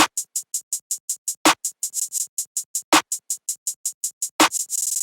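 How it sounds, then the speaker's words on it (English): Basic snare clap pattern layered in a trap-style beat: sharp clap hits land on a regular, sparse pulse over steady rapid hi-hat ticks, ending in a quick hi-hat roll, clean with no talking. "And it's just in basic clap pattern"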